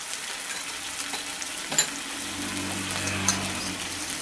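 Ground chili, cumin, coriander, turmeric and salt frying in a pan for a prawn and kohlrabi curry, a steady close sizzle with a faint low hum and a couple of small clinks.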